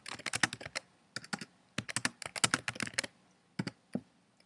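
Fingers type on a computer keyboard nearby, quick irregular bursts of crisp key clicks separated by short pauses, clear and alone with no voice over it.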